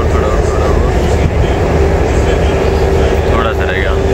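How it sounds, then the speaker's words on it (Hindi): Namo Bharat RRTS rapid rail train running along the Delhi–Meerut line, a steady loud rumbling roar of the train in motion with a sustained whine, continuous throughout with a voice talking over it. "अभी हमारी नमो Bharat train yellow white tracks पे दौड़ रही है"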